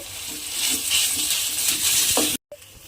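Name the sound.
grated potato being stirred and fried in oil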